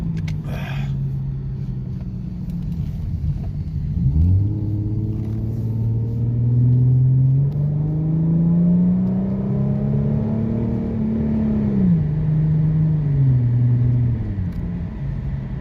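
A Ford Mustang with the 3.7 V6 engine and an SCT X4 tune drives off, its steady low engine drone rising and falling in pitch as it pulls and shifts, heard from inside the car with no talk.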